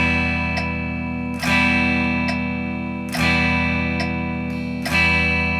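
Sustained guitar chord restruck every two clicks as half notes against a steady metronome tick, three strong strums ringing evenly with no talking, from a first guitar lesson.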